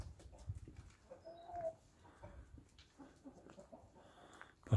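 Rooster on a farm with hens and chicks, giving soft, scattered clucks and short calls at low volume, with faint background rustling and a sharper sound at the very end.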